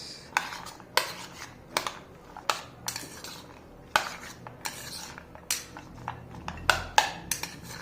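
A spoon scraping and knocking against a pan while gongura chicken with a little salt is stirred, giving sharp metallic clinks at an uneven, roughly once-a-second rhythm, close and alone.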